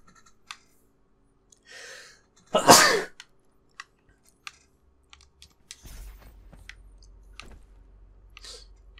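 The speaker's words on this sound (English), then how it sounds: "I have to sneeze now." A single loud, close sneeze from a person during a Doom Eternal gaming session, preceded by a short inhale and surrounded by scattered keyboard clicks and light taps, with a low hum starting near the end.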